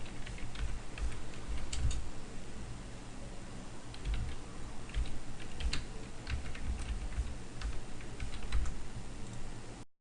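Typing on a computer keyboard while renaming a file, with quick irregular key clicks in short bursts and pauses, close and moderately quiet over a faint steady background hum.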